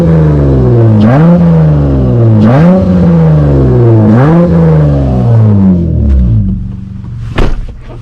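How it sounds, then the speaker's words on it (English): Tuned 8th-generation Honda Accord with a 3.5L V6 on 91-octane fuel, revved hard on a rural backroad: three or four loud, rising rev sweeps that climb and fall back in a steady rhythm, then settle to idle near the end. "Y'all wanna hear a nice little rev?"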